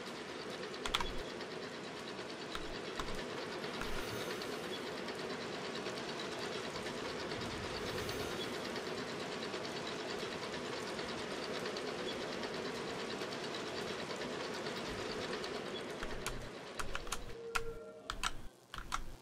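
Roller coaster track clacking in the Planet Coaster game, a steady rapid rattling chain of clicks running continuously and fairly loud, breaking up into scattered clicks near the end.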